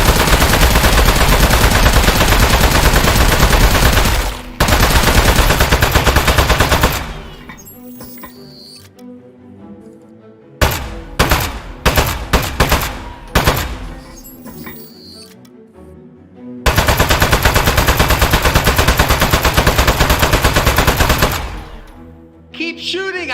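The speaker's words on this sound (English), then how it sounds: "Keep shooting him. Keep shooting." Video game gunfire roars in long, dense, loud bursts of rapid machine-gun shots, separated by quieter gaps filled with short clusters of single shots.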